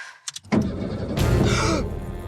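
A car engine starting up inside the vehicle, a few short clicks and a starter crank followed by the engine catching into a steady, moderately loud idle hum.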